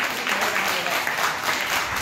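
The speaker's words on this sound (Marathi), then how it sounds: "आपण सर्व महाराजांचं टाळ्या वाजून महाराजांना धन्यवाद देऊ" Audience clapping at a children's values camp, a steady broadband patter of many hands sustained for about two seconds at moderate level, with some voices mixed in.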